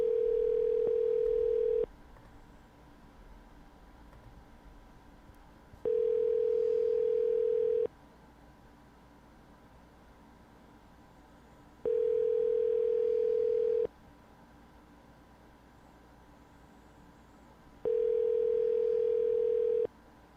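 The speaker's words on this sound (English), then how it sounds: "Alright, Mike, you ready for us to call you?" Telephone ringback tone on a call-in radio show, four long steady tone bursts of about two seconds each, evenly spaced with quiet gaps, clear and moderately loud with no talking.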